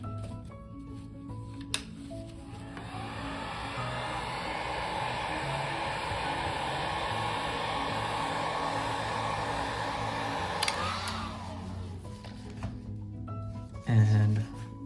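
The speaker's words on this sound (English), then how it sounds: "I'm going to use my heat gun to take out this flex cable attached with the front camera." Heat gun blowing steadily on the flex cable of an iPhone 8 Plus during screen replacement, a continuous airy roar that starts with a click and cuts off abruptly near the end, followed by a brief clunk.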